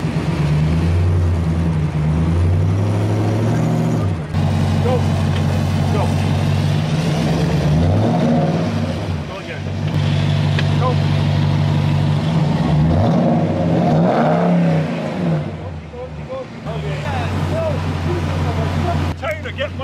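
A Ram 2500 pickup engine revs and strains while towing a stuck Ram 3500 out of deep snow during a heavy snowstorm, rising and falling under frequent nearby talking.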